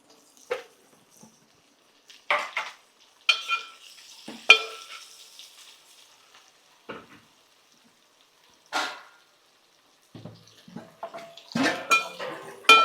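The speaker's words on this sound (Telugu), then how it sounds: "ఇప్పుడు దీంట్లో నేను ఉల్లిపాయ ముక్కలు వేస్తున్నానండి" Onion pieces go into a hot pan to fry, giving scattered bursts of sizzling and stirring clatter separated by quiet gaps, close by with no talking.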